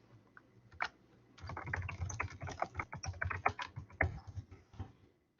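Rapid, uneven clicking of fingers typing on a computer keyboard, close and fairly quiet, coming in bursts after a single early keystroke.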